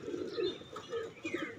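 Pigeons coo softly in a short low burble, faint and fairly close, with no talk over it.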